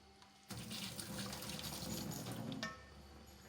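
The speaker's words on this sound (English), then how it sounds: "Drain the water out of them and put them into a bowl." Boiled edamame drained in a sink, the hot water pouring out in a steady rushing splash that starts abruptly and runs for about two seconds before tapering off, close and alone.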